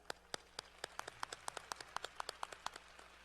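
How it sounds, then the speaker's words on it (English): A few scattered, distinct handclaps at a university service recognition ceremony for honorees, faint and sparse, with separate claps falling at an uneven rhythm. "let's give one more big round of applause for everyone for their service today"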